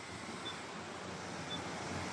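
A strong river current rushes beneath a bridge between mountains, a continuous broadband roar of flowing water, faint and steady, with no voices.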